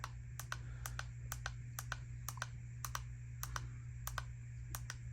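Button clicks on a TONYFUL LED plant grow light, a series of sharp close clicks in irregular pairs and runs over a steady low electrical hum.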